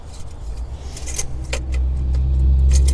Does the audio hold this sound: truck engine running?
yes